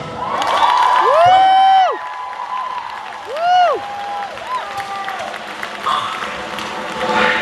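An audience at a spoken word praise performance breaks into applause, cheers and whoops, with bright, rising tonal shouts standing out over the clapping crowd.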